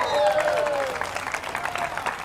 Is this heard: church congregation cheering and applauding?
yes